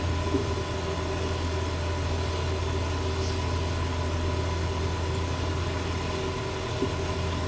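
Steady, droning aircraft engine hum in Microsoft Flight Simulator 2024, a piston plane cruising at about 9,000 feet, heard as an unbroken low rumble throughout with no talk.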